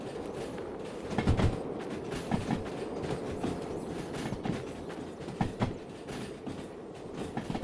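A 164-wagon freight train shunts slowly, wheels clicking over rail joints with occasional metallic squeals and clunks, a steady rumbling mid-distance noise with no voices.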